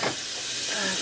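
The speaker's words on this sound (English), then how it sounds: "And rinse it off." Running sink water splashes over a dish being rinsed, a steady hissing spray lasting about a second.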